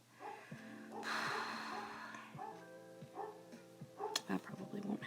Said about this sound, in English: I also need my dog to stop barking.